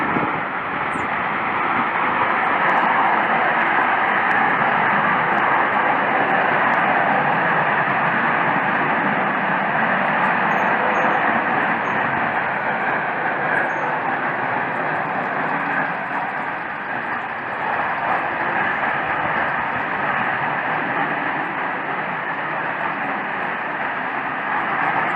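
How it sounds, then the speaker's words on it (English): A loud, sustained roar fills the sky, like jets flying overhead though no planes are in view, a broad rumbling drone that holds steady for the whole stretch with slight swells and no speech. "there's this really loud noise. Sounds like jets flying overhead"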